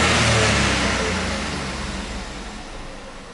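A VW Up three-cylinder car engine running after an adjustment, a steady close engine hum with broadband noise that fades gradually over a few seconds.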